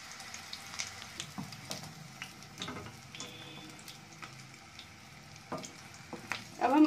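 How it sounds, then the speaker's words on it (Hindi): Potatoes frying in a pan with a faint, uneven sizzle and soft ticking pops, rising briefly at the end with a louder clatter. "मेरा आलू अच्छे से फ्राई हो गया"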